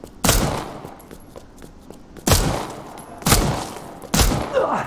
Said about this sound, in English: it basically fires like any other handgun we've seen prior. So let's go ahead and test it on a hunk